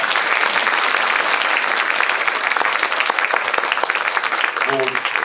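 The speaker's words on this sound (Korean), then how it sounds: "박수 부탁드립니다" An audience at a film screening talk event applauds steadily, a dense wash of clapping that carries on throughout the clip.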